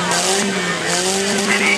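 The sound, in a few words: car braking hard in rollover competition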